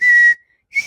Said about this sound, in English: I learned how to whistle without having to move my mouth